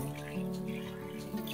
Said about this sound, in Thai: เดี๋ยวเราจะล้างน้ำเปล่าให้ดูก่อนนะ